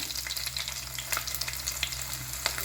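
Mustard seeds and small shallots frying in oil for a mutton gravy, a steady close sizzle with sharp pops and crackles scattered throughout.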